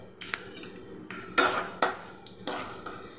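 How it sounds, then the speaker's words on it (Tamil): Urad dal for aval uppuma tipped into a pan in a home kitchen, heard as a few short, close rattles and clinks against the metal, spaced out over a few seconds with quiet gaps, with no voices. "கொஞ்சமாக உளுந்தம்பருப்பு போட்டுக்கலாம்."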